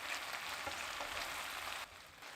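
Vegetables and meat in a frying pan over medium heat with bean sprouts are stirred together, giving a dense close-up sizzle that drops to a quieter frying hiss partway through.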